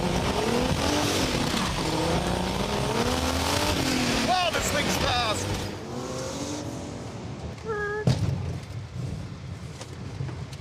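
A 2015 Subaru Legacy launches hard off the line, its engine revving and tires squealing up close under excited talk, with the roar fading as it pulls away.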